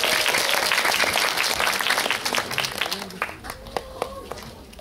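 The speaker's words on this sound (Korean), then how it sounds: "큰 박수 부탁드릴게요." An audience claps at a film stage greeting for the movie Insane, a steady, fairly distant round of applause that thins out into scattered individual claps near the end.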